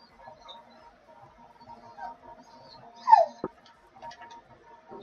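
A pet dog lets out a brief, high whimpering whine, rising then falling, standing out once over quiet, steady video game background sound.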